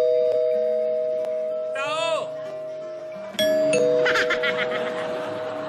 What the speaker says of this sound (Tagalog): Tumutunog yung doorbell, di ba?